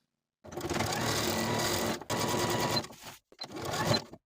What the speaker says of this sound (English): we're going to edge stitch close to that upper inner fold all the way around